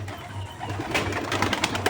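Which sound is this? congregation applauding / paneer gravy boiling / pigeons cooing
pigeons cooing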